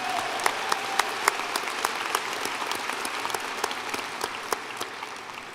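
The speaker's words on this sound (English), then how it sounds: "Please join me in applause and thank Donna for all her service." A commencement ceremony crowd applauds steadily, dense clapping at even loudness throughout with no voices over it.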